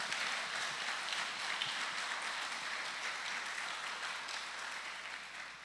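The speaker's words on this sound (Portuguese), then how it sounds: "Pode aplaudir Jesus?" A church congregation applauds during a sermon, a soft, continuous hiss of distant clapping with a low hum beneath it, fading slightly toward the end.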